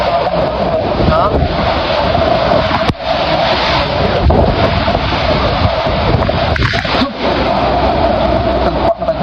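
Heavy wind buffets the microphone in a constant loud roar, with a few brief dips and some faint voices underneath.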